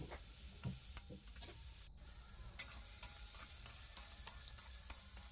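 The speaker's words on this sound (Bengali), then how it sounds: "এভাবে এক দু মিনিট ভালো করে নাড়িয়ে নিতে হবে" A salted mixture is stirred in a pan while making fried puli pitha: a faint, steady low sizzle with scattered soft spatula scrapes and taps throughout.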